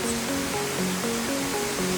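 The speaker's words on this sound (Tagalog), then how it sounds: "Ito na yung Sangbay ni Ragsak Falls" Ragsak Falls in Ilocos Sur, a dense, steady roar of falling water with faint tonal traces above it and no talking.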